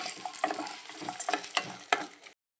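Peanuts frying in a pan give a crackling sizzle with sharp stirring scrapes at irregular intervals, close and moderately loud, ending abruptly.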